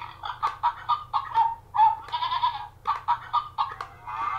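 A farm sound toy plays a recorded chicken clucking, a string of short, choppy clucks and squawks of varying length, close and fairly loud over a faint steady hum.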